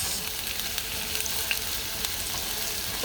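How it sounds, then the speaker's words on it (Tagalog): Garlic and onions sauté in a pan with a continuous, even sizzle and faint stirring scrapes, close and moderately quiet, no voices. "mix natin yung garlic and onions."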